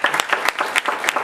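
Applause from an audience at an international conference panel on youth-led participatory action research, with irregular bursts of clapping that rise and fall rather than a steady roar; no one speaks.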